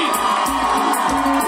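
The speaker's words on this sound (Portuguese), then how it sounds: "Os aplausos de vocês para Vita Fó, por essa festa maravilhosa. Quem gostou faz muito barulho aí" A party audience at a Vitafor celebration show cheers, whoops and shouts loudly, close and continuous, with no speech over it.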